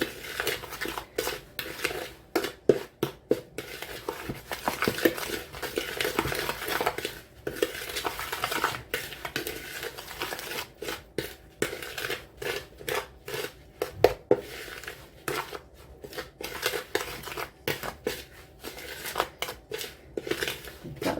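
Spoon scraping and clinking around a bowl as apple and strawberry crumble mixture is mixed, an irregular run of close scrapes and taps that keeps going without a break.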